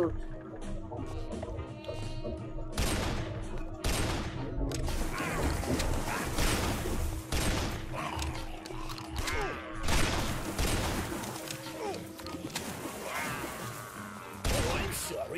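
Shotgun blasts in the retro zombie game Guns, Gore & Cannoli, with several loud sharp booms spaced a few seconds apart among zombie grunts and game noise, while a player talks over the action.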